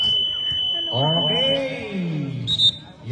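A buzzer sounds at an amateur basketball game between Bulacan and Batangas teams, a steady high electronic tone for about a second and a half beneath people talking courtside.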